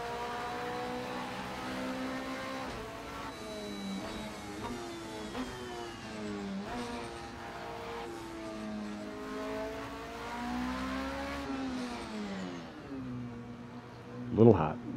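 A Ferrari driving around a track, its engine revving up and down through gear changes in a steady rising and falling drone, with people talking over it and a brief louder knock near the end.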